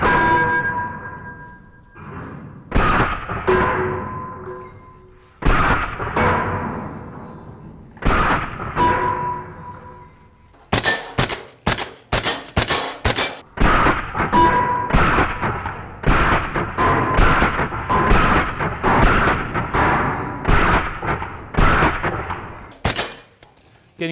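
Suppressed B&T GHM9 SD 9mm carbine fired outdoors: several spaced single shots, then a fast string of sharp, muffled reports, each trailing into a short echo; loud, without talk.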